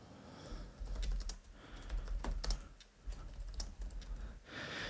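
Steady typing on a computer keyboard, close and fairly loud, with a rapid irregular patter of key clicks and a few sharper strikes across the whole stretch. No talking.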